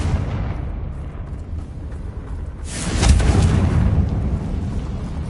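A Confringo fire spell bursts in Hogwarts Legacy, one loud explosive whoosh about halfway through, rising out of low rumbling ambience and fading into a sustained roar.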